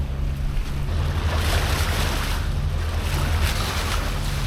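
A sailboat motoring along under engine power in calm conditions off Poros, Greece, with a steady low engine drone and water wash alongside, plus some wind noise, continuous and close throughout.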